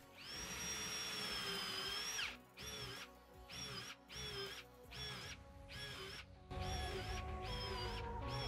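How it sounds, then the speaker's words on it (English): A power drill bores a 3/8 inch hole through plywood for a cabinet frame, whining at high pitch in several bursts that start and stop, close and fairly loud, with no speech. "then I'm going to flip them and drill a 3/8 hole through the side"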